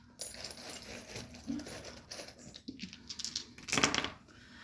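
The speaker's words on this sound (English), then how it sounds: "let's go ahead and get some letter dice and see what comes out for y'all" Letter dice clatter and tumble during a tarot reading, with scattered light clicks and rattles that build to a brief louder burst of knocking near the end, fairly quiet overall.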